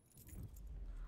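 A small key jangles in the video game DARQ, a brief, faint metallic rattle over a low background hum.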